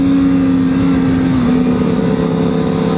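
CFMOTO 500SR sport motorcycle on a race track, loud close engine howl with a sustained pitch that drops midway as it downshifts under front braking, then a rougher, lower drone.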